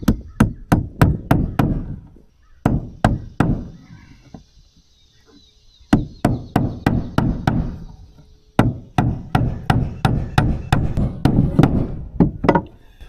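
A framing hammer drives nails with sharp, ringing strikes in quick bursts of several blows, close and loud, separated by short pauses, while framing window headers.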